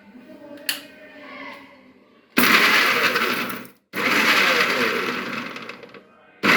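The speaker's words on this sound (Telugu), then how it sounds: "ఫస్ట్ దీన్ని మిక్సీ పెట్టి" A kitchen mixer grinder blends bottle gourd chutney with rock salt: after a few quiet clicks, two loud whirring bursts of about a second and a half and two and a half seconds, then the motor kicks in again.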